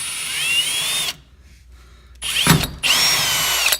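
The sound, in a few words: power drill drilling a hole for Mustang ghost light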